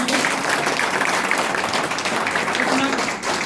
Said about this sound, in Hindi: इस बार जोरदार तालियां बजाइए।